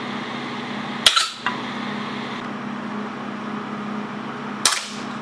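Two sharp shots from a .177 BB air cannon with a new valve and electronic controls, each a loud crack with a short metallic ring as the BB hits a can against a wooden backstop, spaced several seconds apart over a steady hum.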